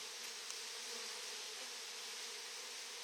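Dense, steady buzzing of a honeybee swarm around a hive just after being moved from a tree trunk, continuous and close, with no voices.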